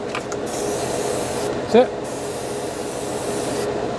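A Paasche H Series airbrush sprays thinner in a steady hissing stream with a brief louder burst near the middle, while a person speaks briefly.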